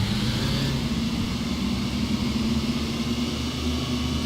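Vehicle engines idling in a video game, a steady loud low rumble and drone that holds evenly throughout without a clear start-up, no voices over it.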